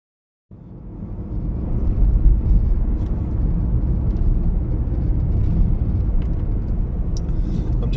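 Road noise from inside a car driving along, a steady low rumble that fades in after a brief silence and holds unbroken, with no talking.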